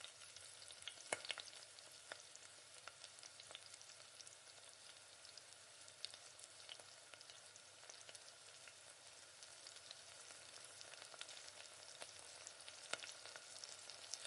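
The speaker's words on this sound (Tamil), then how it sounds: "எண்ணெய் நல்லா சூடானதுக்கு பின்னாடி இந்த சிக்கன்லாம் ஒன்று ஒன்றா எடுத்து பொரித்து எடுத்துக்கலாம்." Chicken pieces for chilli chicken fry in hot oil at home, giving a steady, fairly quiet crackling sizzle with scattered small pops throughout and no voices.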